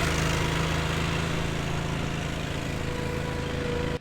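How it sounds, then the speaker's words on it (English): Steady motor drone of a tractor engine running nearby, a continuous low hum with broadband noise that cuts off abruptly at the end. "you could probably hear the guy's tractor here."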